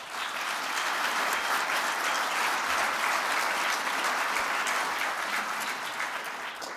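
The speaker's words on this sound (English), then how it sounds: "Please give them a round of applause." Audience applause fills a public forum on jail and justice reform, a steady, dense wash of many hands clapping close and continuous throughout, with no voices over it.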